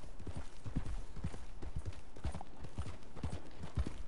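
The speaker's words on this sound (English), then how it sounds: "Just admiring your horse there." Horse hooves clip-clop steadily in the Red Dead video game, a continuous even walking rhythm of low thuds at moderate distance over a constant background bed, with no talk.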